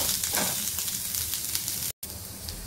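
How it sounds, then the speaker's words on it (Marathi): Two chopped onions frying in a little oil in a pan, a continuous close, bright sizzle with faint stirring and a brief dropout near the end. "जो आपण 2 कांदे चॉप करून घेतले आहेत ते जरा तांबूस रंगाचे होईपर्यंत थोडंसं तेल टाकून भाजून घ्यायचं आहे"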